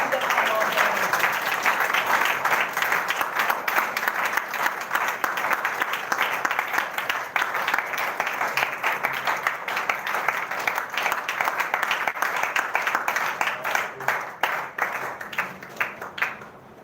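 A church congregation gives long, sustained applause, many hands clapping densely and loudly at a steady pace before thinning and fading toward the end, with faint voices underneath.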